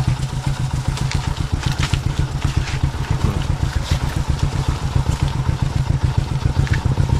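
A motorcycle engine runs close and loud with a steady, rhythmic putter that continues without a break, and no voices are heard.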